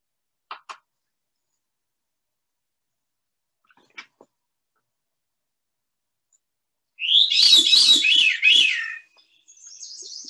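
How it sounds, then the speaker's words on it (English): A veery, a North American thrush, sings one clear, loud descending cascade of swirling notes after a few faint scattered clicks. A quieter trailing phrase follows at the end, with no talking. "That's the veery."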